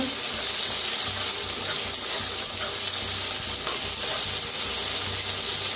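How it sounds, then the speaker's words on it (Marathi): Onion, curry leaves, green chili and garlic frying in a pan for pithla, a dense, steady sizzle close by with faint stirring, constant loudness throughout and no voices. "छान असं भाजून घेऊया कांदा आणि कढीपत्ता, मिरची, लसूण।"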